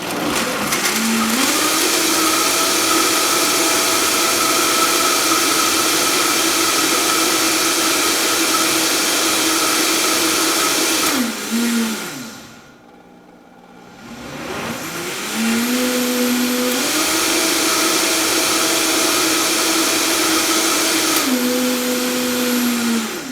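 A blender whirs loudly and steadily while making a raw smoothie, briefly cutting out and dropping to near silence midway before spinning back up to full roar.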